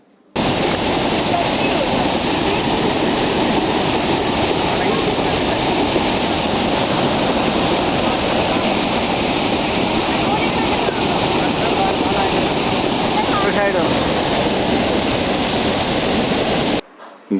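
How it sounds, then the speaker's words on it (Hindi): The Dhuandhar waterfall at Bhedaghat near Jabalpur pours the river onto marble rocks in a loud, unbroken broadband roar that holds steady for the whole stretch before cutting off abruptly. "जहां की जो नदी है संगमरमर की रॉक्स पर गिरती है।"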